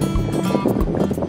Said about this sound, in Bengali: এখনো যা হাওয়া হচ্ছে থেকে থেকে পুরো মনে হচ্ছে ঝোড়ো হাওয়া